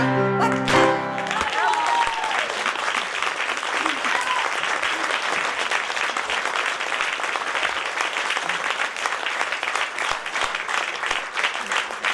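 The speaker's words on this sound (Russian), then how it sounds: "Вот уже первые аплодисменты пошли" Audience applause at a romance song concert, dense sustained clapping that takes over right as a sung phrase ends and carries on evenly, with a few voices faintly underneath.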